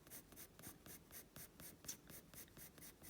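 Prismacolor colored pencil drawing a night jungle scene on paper: steady rhythmic scratchy strokes, close and fairly quiet, repeating back and forth with no voices.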